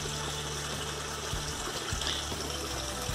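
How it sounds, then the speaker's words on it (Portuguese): Spring water runs down from a hillside source into a small outlet on a rural smallholding, a steady continuous trickle and gush at close range with no talk over it. "Mina lá de cima, a água. Desce de lá de cima. E desce pra aqui."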